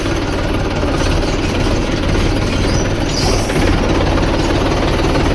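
A Massey Ferguson tractor engine runs steadily at close range, a loud, continuous low rumble with a rough, knocking vibration throughout and no talking.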